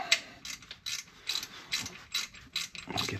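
A ratchet wrench tightens a bolt on a Land Rover, its quick metallic clicks coming in short, repeated bursts close by.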